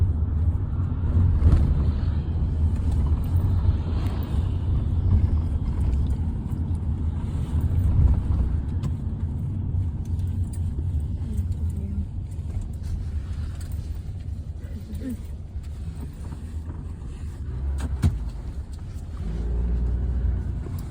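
A car drives along a road in Bermuda with a continuous low engine and road rumble and some wind buffeting against the microphone, steady throughout and without talk.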